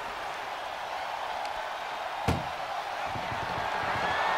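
In WWE 2K24, an ambulance door slams shut during a wrestling ambulance match: one sharp, heavy bang over a steady wash of arena crowd noise.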